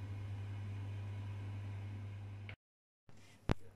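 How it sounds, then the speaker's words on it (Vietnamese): A Hitachi 1.8-litre high-frequency pressure rice cooker runs its motor with a steady, close, droning hum. The hum stops abruptly, then after a short quiet a single sharp click follows. "khi mà nấu thì nó cái động cơ nó hút, có tiếng động cơ khá là to"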